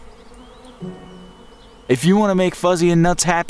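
Cartoon bees buzzing, a faint high drone at first, then a child-like voice speaks loudly over the last half, partly masking the insect hum.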